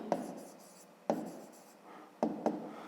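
Pen writing by hand on paper during a fifth-grade geometry exercise, quiet close scratchy strokes in short bursts, each starting with a light tap, with pauses in between and no talk.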